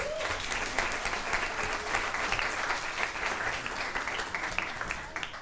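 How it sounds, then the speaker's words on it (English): Audience applause at a school board of education meeting, a steady crowd of clapping hands that holds at an even level for several seconds, with a faint voice briefly audible underneath. "can we please just give her a round of applause?"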